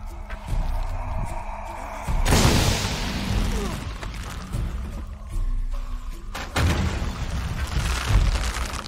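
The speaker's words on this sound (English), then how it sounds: "create an explosion." An explosion in Shadow of the Tomb Raider bursts out loud and close, then a second heavy blast follows a few seconds later. A rumbling game ambience with thuds runs between them.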